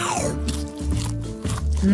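Crunchy food is chewed close up, with several loud crisp crunches in quick rhythm while a voice murmurs faintly underneath.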